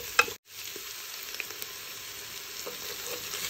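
Vegetables and seafood, mushrooms among them, sauté in a pot for a Ramadan vegetable-and-seafood chorba, giving a steady, close, even sizzle. A brief clatter comes near the start, then a short drop to silence before the frying resumes.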